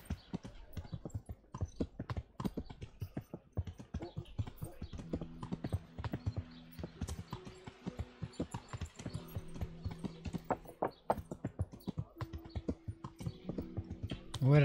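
Rapid, rhythmic hoofbeats of a horse in the video game Kingdom Come: Deliverance clop along continuously at a moderate volume, with faint musical notes drifting in the background.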